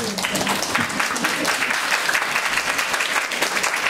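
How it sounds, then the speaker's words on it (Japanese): Audience applause at an outdoor forest concert at a shrine, dense steady clapping from a crowd sustained evenly throughout, fairly close and full. "拍手を。"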